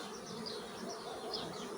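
Honey bees buzzing steadily at a beehive during hive expansion with a second box, a dense, continuous hum of many insects close by with no talk.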